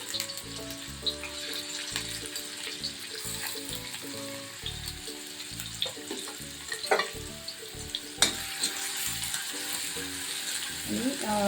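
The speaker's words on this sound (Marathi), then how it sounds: "याच्यामध्ये मी आता बारीक चिरलेला कांदा घालून घेतो" Finely chopped onion fries in a little oil on a flat pan, giving a continuous close sizzle with occasional clatter and scraping from stirring throughout.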